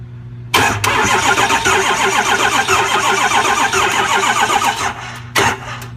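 An engine cranks on battery power with a steady, rapid chugging whir lasting several seconds, loud and close, ending in a brief click and a short second crank burst without catching.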